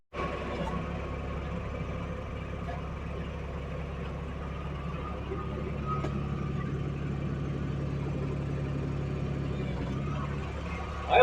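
A tractor engine runs steadily at close range, a constant low rumble with a rough idle-like drone throughout, lifting slightly in level toward the end.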